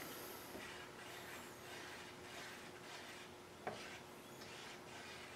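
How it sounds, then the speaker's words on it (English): Thick epoxy primer paint being stirred with a stir stick, a steady soft scraping and rubbing that runs continuously at close range, with one brief sharper knock near the end. "So you want to get up onto the bottom and mix the paint up really good."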